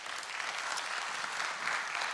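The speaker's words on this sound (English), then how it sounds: "can we give them a clap?" Steady audience clapping fills the room at an annual general meeting, a dense, even wash of many hands with no voices over it.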